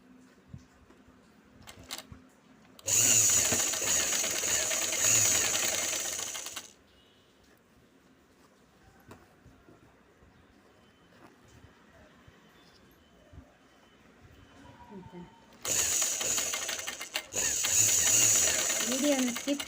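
A sewing machine stitches a quarter-inch folded hem on a straight pant, running in two loud sustained bursts separated by a quieter stretch with faint background sounds.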